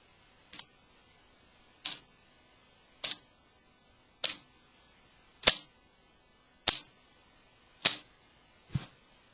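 Eight crisp, sharp clicks from a flipping knife's blade snapping open and shut, evenly spaced about a second apart, close and isolated against silence.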